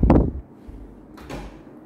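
An apartment door in a one-bedroom flat at Vinhomes Grand Park swings shut with a firm close thud, followed by a quieter second knock a moment later in a calm room.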